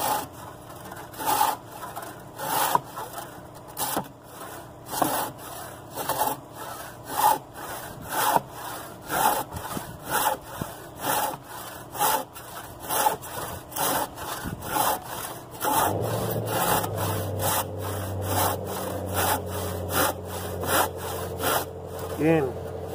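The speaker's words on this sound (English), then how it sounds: "because I'm not as good cutting straight with a handsaw, so I use a straight edge to make sure I get good square cuts" A handsaw cuts wood along a straight edge for a square cut on a beginner workbench build. The strokes are steady and rhythmic, rasping and close, with no talking.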